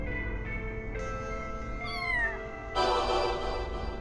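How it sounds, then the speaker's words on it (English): A single cartoonish meow from a cat in a video game rises and falls in pitch, loud and clear, heard alone over steady electronic game tones and chimes, with no talk. "Cat!"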